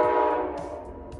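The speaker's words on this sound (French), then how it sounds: "Un klaxon retentit bientôt depuis le virage, et notre train entre en vue." Horn of an Amtrak P42DC locomotive, Midnight Blue livery, sounding from around a curve as the train approaches, one loud sustained blast fading slightly toward the end.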